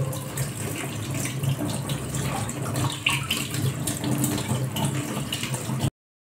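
Flowers for fritters are swished and rinsed by hand in a basin of water, giving a steady close sloshing and trickling wash that runs continuously and then stops abruptly.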